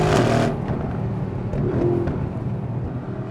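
Mercedes-AMG GLC63 S Coupé in race mode, its engine and exhaust loud and close, with a sharp burst at the start that settles into a sustained, throaty drone.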